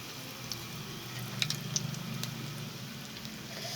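Chicken cheese bread fingers fry gently in a pan over low to medium flame, a soft, steady sizzle close by with a few faint pops and clinks, no talking.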